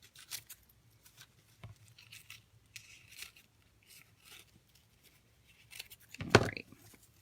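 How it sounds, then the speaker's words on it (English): Scissors snip away excess paper in a paper-crafting project, producing several soft, scattered cuts followed by one louder close snip near the end. "And then we'll just kind of trim the excess off"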